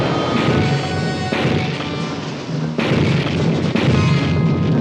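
A large explosion in a TV episode of the undersea adventure series Voyage to the Bottom of the Sea, heard as loud rumbling blasts and crashing debris with a fresh burst partway through, dense and sustained throughout.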